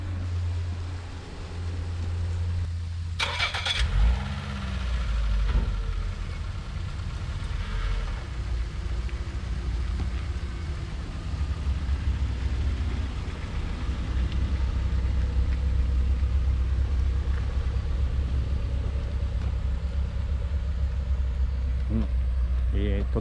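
Nissan Figaro setting off on a drive, its engine note a steady low rumble lasting throughout, with a brief clunk early on and a broad road and engine wash beneath.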